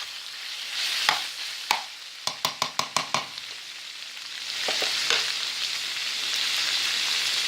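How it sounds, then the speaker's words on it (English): Butter melts with stewed beef and onions in a hot pan, making a soft, steady sizzle. A quick run of sharp knocks from a spoon against the pan comes first, then more stirring, and the frying grows louder toward the end. "add 2 tablespoons of butter and let the butter melt down and the meat and the onions and the flavoring"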